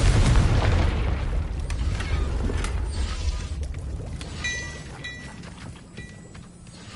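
The Confringo fire-blast spell cast in the video game Hogwarts Legacy, heard as a loud booming burst with crackling debris that settles into mechanical rattles and softer pops.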